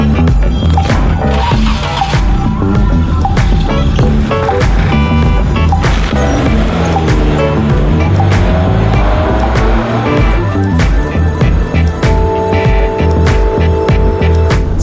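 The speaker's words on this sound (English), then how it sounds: "Let's take Liam on a quick drive around the neighborhood to shake it down before the big race." A 1997 Nissan 200SX SE-R with its SR20DE engine driven around a neighborhood, a loud, continuous engine and road noise with rising and falling revs and occasional clunks.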